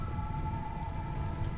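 Steady rainfall in RimWorld hisses continuously at an even level, a dense wash of drops with a faint tonal hum running beneath, no voices present.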